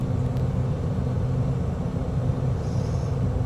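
A light aircraft's engine drones and rumbles steadily in the cabin as the throttle is brought up on a visual approach with full flaps, a loud continuous low hum filling the space.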